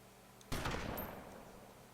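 A single loud, close IzH 43 double-barrel shotgun blast in DayZ Standalone, with a sharp onset and a reverberant tail that fades over about a second.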